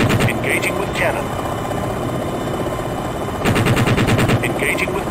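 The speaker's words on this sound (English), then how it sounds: "Engaging with cannon. Primary target in sight, 12 o'clock. Engaging with cannon." Helicopter cannon fire in the Jane's Longbow combat flight game: two loud bursts of rapid, rhythmic shots open and close the clip, with steady rotor and engine drone between them.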